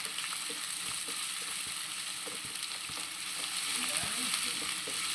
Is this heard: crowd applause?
no